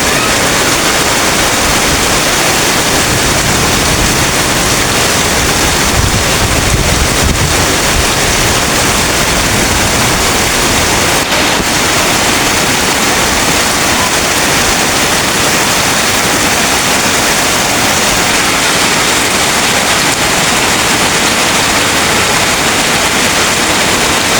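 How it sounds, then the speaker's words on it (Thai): Heavy rain pours down steadily, a dense, loud, unbroken roar of hiss and wash that fills the whole stretch without pause, with no voices heard above it. "บรรยากาศตอนนี้ฝนตกอย่างแรงพี่น้องเอ้ย"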